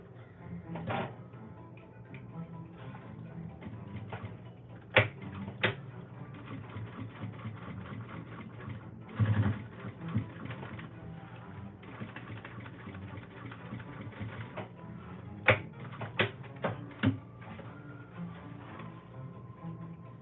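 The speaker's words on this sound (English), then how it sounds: "now we're going to top stitch right through here" Sewing machine running in steady stretches while top stitching through a garment's seam allowance, with occasional clicks and handling thuds between runs; fairly quiet and close.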